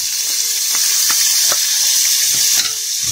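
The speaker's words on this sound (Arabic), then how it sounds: "اول ما الشعريه بدات تحمر هنحط الثوم" Garlic sizzling alongside browning vermicelli in a pan for a yellow lentil dish, a loud continuous frying hiss broken by soft clicks of stirring, close up.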